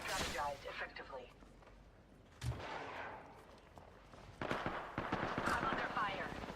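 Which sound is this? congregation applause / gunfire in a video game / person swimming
gunfire in a video game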